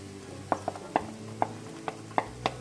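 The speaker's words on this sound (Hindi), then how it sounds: "अभी हम इसमें टमाटर ऐड कर देंगे कटी हुई" Chopped tomatoes going into lightly browned frying onions in a pan, with a steady low sizzle under a series of sharp spoon-on-pan knocks at irregular intervals while stirring, close and moderately quiet, with no talk.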